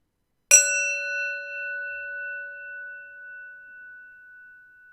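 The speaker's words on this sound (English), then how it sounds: "Let's do the meditation bell." A meditation bell is struck once, giving a bright metallic strike that settles into a clear, pure ringing tone and slowly fades over several seconds in otherwise quiet surroundings.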